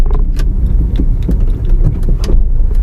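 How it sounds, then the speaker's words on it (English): A 2009 Hyundai i10 pulls away in second gear during a test drive in Bangalore. A close, steady engine drone sits under the road and cabin noise, with faint light rattles, and nobody speaks. "The car is picking up easily in second gear"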